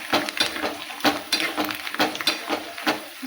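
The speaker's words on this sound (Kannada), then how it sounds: "ಚೆಂದಾಗಿ ಫ್ರೈ ಮಾಡ್ಕೋತಾರೆ" Curry leaves fry in hot oil for a spicy North Karnataka-style chuda, with a steady sizzle broken by rhythmic, close scraping strokes of a stirring spoon against the pan.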